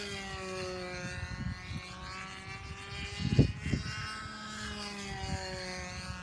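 A buzzing model airplane engine, a Tiger Shark model, drones steadily with a rising and falling pitch, heard from a moderate distance outdoors.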